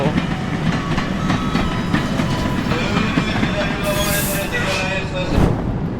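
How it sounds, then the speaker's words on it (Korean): Steady rumble and rattle of an old train rolling along the rails from Probolinggo to Banyuwangi, Indonesia, wheels clacking continuously with faint voices mixed into the noise. "이게 기차가 되게 오래된 기차라 보니까 텀이 있어요"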